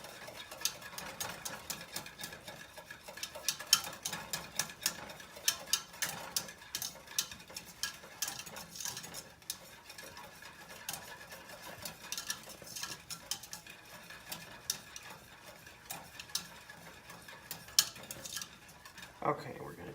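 Metal whisk scraping and clinking steadily against a pan while sauce for seafood au gratin is worked smooth, a quick continuous rattling texture at close range with no talking.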